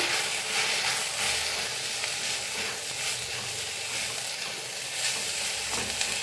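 Mutton curry with added tomato fries in a pan, giving an even, moderately loud sizzle with faint stirring textures running steadily through the whole stretch.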